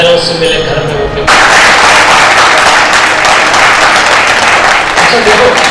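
Audience clapping at a spiritual discourse, a sudden loud burst of dense applause breaking in after a moment of quieter sound and carrying on steadily to the end.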